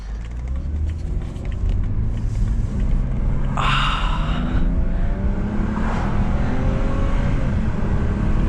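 Inline-six engine of a BMW 328xi E90 Sport Package humming steadily while driving on a road, a constant close rumble with a couple of brief passing swells, no talking over it.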